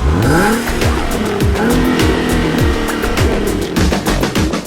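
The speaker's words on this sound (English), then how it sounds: "The team pushes the engine to redline, individually testing each Viper engine" A 645-horsepower Dodge Viper supercar engine is pushed to redline during individual engine testing, giving a loud, continuous roar with repeated rising and falling rev sweeps and no talk over it.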